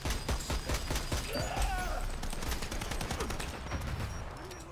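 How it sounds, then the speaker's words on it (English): Dense gunfire from the online shooter Dirty Bomb during an attacking round, rapid overlapping shots and bursts loud and continuous throughout, with a faint voice briefly underneath. "Shooting at him."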